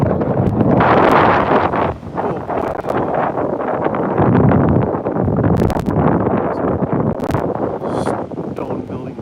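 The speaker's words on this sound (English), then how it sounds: "Oh, it is windy today. Windy on the beach." Strong wind buffets the microphone on a black sand beach in Iceland, a loud, continuous roaring rush with gusty surges that dominates throughout.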